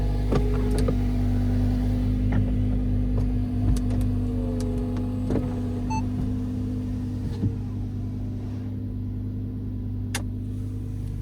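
Electric folding roof of an Audi R8 V10 Performance quattro Spyder convertible opening, a steady motor whir with mechanical clicks and a few sharp clunks as the panels move and latch, close and fairly loud over a low hum.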